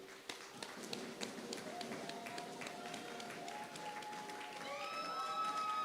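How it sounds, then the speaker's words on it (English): A hall audience keeps up scattered, steady clapping at a college of education convocation ceremony, with sharp individual claps over a continuous patter and faint sustained tones drifting beneath. "Keep clapping."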